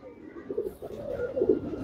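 A champion racing pigeon from a Narayanganj tournament coos softly and close, a few low, throaty rolling calls in a quiet space.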